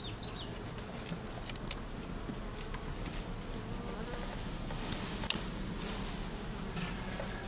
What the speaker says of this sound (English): Now I'm going to dump a little bit of the bees, gentle dump, right on top of the queen.